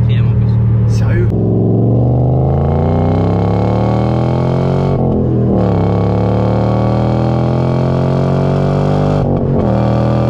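A 2013 Ford Mustang GT Premium engine revs hard under acceleration in fourth gear, a loud continuous rising roar heard from inside the car with brief shift dips, people talking over it.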